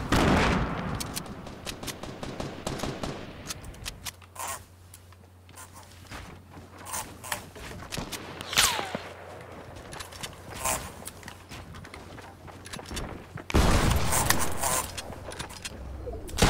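Sniper shots and scattered gunfire ring out in a multiplayer shooter match, with sharp cracks spaced through the fight, a loud burst near the end, and players talking over the action.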